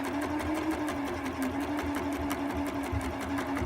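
Domestic sewing machine stitching a curved line around the edge of a jogger pocket sewn to the front of the pants, a steady close whirring hum with fast needle ticking throughout, no talk.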